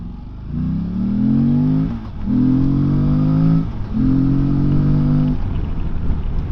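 A Morbidelli T1002V motorcycle accelerates on the road, its engine rising in pitch through three gears with short dips at each shift, loud and close with a steady drone.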